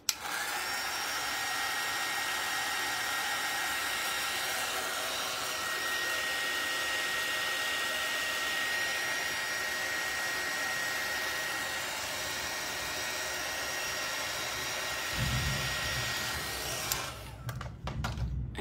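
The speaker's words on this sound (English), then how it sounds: "let me just heat gun this really quick so I don't smear it with my hand" A heat gun blows steadily and loudly, drying acrylic paint on a Christmas ornament, a continuous broadband roar with a faint whine that cuts off near the end, followed by brief handling noise.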